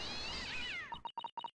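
A cat in The Great Ace Attorney video game meows several times in quick succession, short clear repeated calls following a louder wash of game sound.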